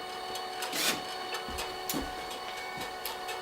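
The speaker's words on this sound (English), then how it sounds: "Press the conveyor button to activate the conveyor belt, and then press start for the input feeder" A LAB500 packaging machine runs its conveyor belt and input feeder with a steady mechanical whir, a constant tonal hum and irregular clicks and clacks, heard close and alone.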